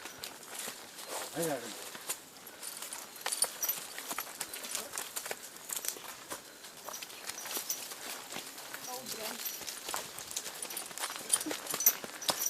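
A horse walks along a mountain trail, its hooves clip-clopping in a steady, fairly close rhythm while people talk over it.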